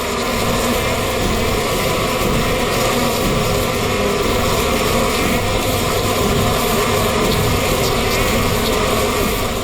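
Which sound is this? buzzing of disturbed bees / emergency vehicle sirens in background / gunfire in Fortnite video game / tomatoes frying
buzzing of disturbed bees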